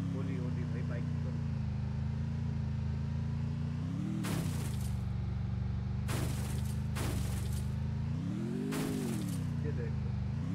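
A motorbike engine droning steadily in Free Fire, its pitch swelling and falling as it rides, with sharp bursts of noise cutting in and a voice speaking over it throughout.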